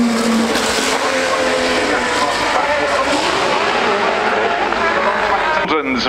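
Aston Martin Valkyrie V12 race car at the Goodwood event, its engine a continuous loud high-pitched wail with rising and falling revs, close by throughout, mixed with crowd and ambient noise.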